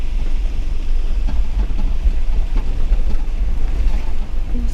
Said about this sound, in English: Here is the river.